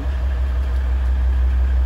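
A Maserati engine runs with its sport exhaust valve open, giving a loud, steady, deep droning exhaust note, close by and uninterrupted.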